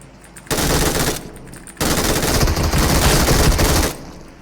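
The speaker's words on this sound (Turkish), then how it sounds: "Aha sağından AMR sıktı." Loud gunfire from an AMR sniper rifle in the PUBG Mobile shooter game comes as two harsh, close blasts of noise, the second longer and sustained, with no speech over them.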